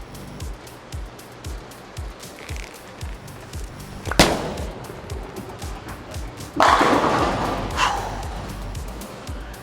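A Harsh Pearl bowling ball thumps onto the lane and rolls with a low rumble, ending in a loud crash of pins. Lighter clatter from other lanes continues around it in a busy alley.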